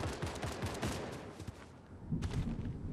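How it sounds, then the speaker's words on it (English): Rapid gunfire in the video game Fortnite, bursts of quick shots in a dense rattling run, then a pause and a second, lower volley, loud and close. "Shooting."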